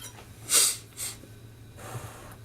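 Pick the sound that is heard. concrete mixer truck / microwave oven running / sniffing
sniffing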